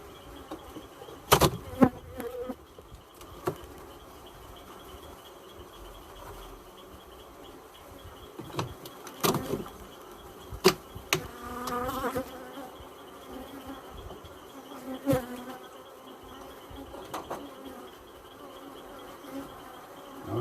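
Honey bees from a weakened colony buzz around an opened hive, a close, continuous insect drone broken by sharp clicks and knocks as hive parts are handled, with no speech.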